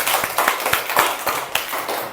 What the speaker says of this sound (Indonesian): tepuk tangan dulu untuk semua anak-anakku